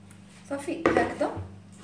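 A baking mold filled with basbousa batter being shaken and knocked on a kitchen counter, a short series of close clattering metallic rattles, with a voice speaking faintly around it.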